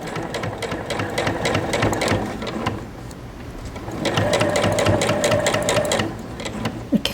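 A sewing machine runs close up, stitching a basket made of cotton piping cord in two bursts of fast, steady chatter with a brief slowdown between them and a few handling clicks at the end.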